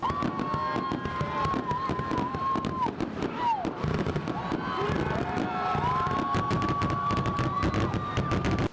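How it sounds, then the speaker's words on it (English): A June fireworks show bursts in dense, rapid crackling pops and booms throughout, with a crowd murmuring and a whistling rocket tone rising and falling underneath. "we went to fireworks before the 4th of July, so that was in June"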